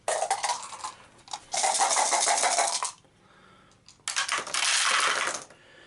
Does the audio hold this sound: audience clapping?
no